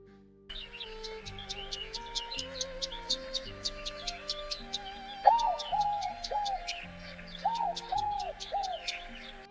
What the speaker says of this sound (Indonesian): seperti itulah untuk suara burung yang tipenya looping ya